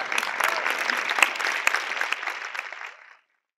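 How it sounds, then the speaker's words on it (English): Indoor audience giving a big round of applause at a talk event, dense steady clapping for about three seconds with a few sharper claps standing out before it quickly fades to silence. "the rest of us will all just stand up and give a big round of applause to Jeff"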